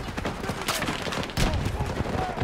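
Battlefield 2042 gunfire crackles in quick bursts of shots, moderately loud, mixed with other battle noise and a voice talking over it.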